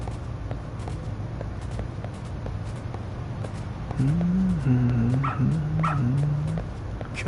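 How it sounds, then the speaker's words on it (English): In the video game Lost Judgment, a dog gives a short run of whimpering, whining yelps over a low ambient hum. The calls come in the second half and rise and fall in pitch. "Good dog. Very good dog."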